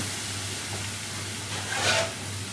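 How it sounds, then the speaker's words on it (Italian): Rice cooks with a little water in a pan, giving a steady, soft, broad sizzling hiss over a low hum, close and continuous with a slight swell near the end. "Iniziamo a cuocere il riso con un po' d'acqua."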